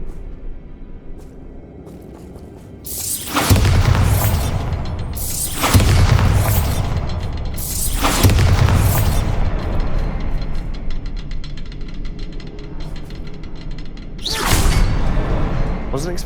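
Bombarda spell explosions in Hogwarts Legacy burst as four deep, loud booms with whooshing tails, three at a steady rhythm and one after a pause, over a low rumbling backdrop with voices at times.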